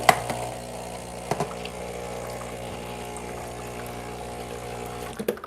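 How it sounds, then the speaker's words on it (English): Water runs steadily through the portafilter of a Breville Barista Express espresso machine, a continuous pump drone and trickling flow with a few clicks at the start and end. "And then I'm gonna flush out my portafilter"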